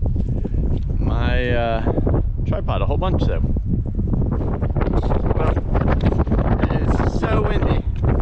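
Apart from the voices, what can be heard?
strong wind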